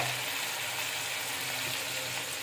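Chicken added to garlic and ginger frying in a karahi for chicken karahi, giving a steady, even sizzle close by, with no talk.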